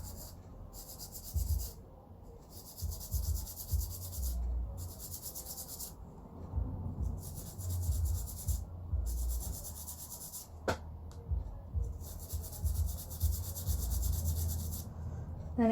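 A wet brass brush scrubs a copper leaf treated with liver of sulphur in jewellery making, producing close, rhythmic bursts of high scratchy rubbing separated by brief pauses, with a single sharp tap partway through.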